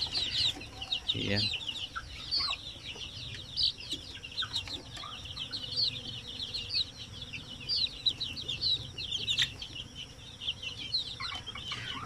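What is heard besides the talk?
native Zampen chickens clucking in cages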